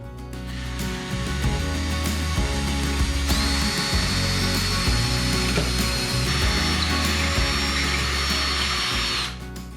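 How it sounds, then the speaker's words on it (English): A power drill bores wiring holes through the foam base of a model railroad layout, a loud sustained whine with several brief pauses and restarts, close up and without talk. "I then remove the track and begin drilling holes."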